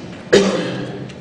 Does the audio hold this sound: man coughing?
yes